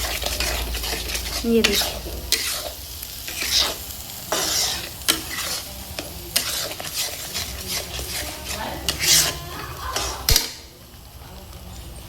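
Masala spices fry in hot oil while being stirred, a close sizzle punctuated by frequent scraping strokes of a spoon against the pan, with someone speaking briefly over it.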